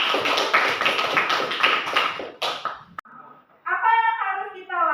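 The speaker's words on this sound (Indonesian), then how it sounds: "kita beri aplaus" A group applauds in a classroom, dense close clapping and tapping that fades after a few seconds, followed by a voice speaking.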